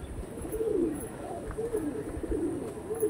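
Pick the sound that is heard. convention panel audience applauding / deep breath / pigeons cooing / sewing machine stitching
pigeons cooing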